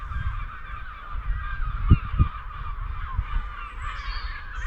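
A flock of geese taking off from a reservoir honks and calls at moderate distance, with a couple of louder honks over a steady outdoor rumble.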